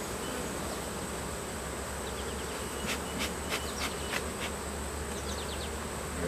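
A steady, dense buzzing of many bees, continuous and close, with faint higher chirps scattered through the hum.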